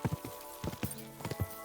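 Horse hooves clip-clop in the medieval game Kingdom Come: Deliverance, a few quick, soft, uneven pairs of hoofbeats at a walking pace, close and fairly quiet.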